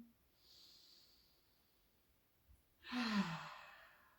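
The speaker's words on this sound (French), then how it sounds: "Là, on est en train d'oxygéner aussi tout le corps avec ces grandes respirations" Deep breaths taken during a guided breathing exercise: a soft airy exhale early on, then a louder, close rushing breath near the end, with no talking.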